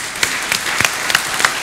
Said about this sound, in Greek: χειροκρότημα στον κύριο Γεώργιο Δεμελή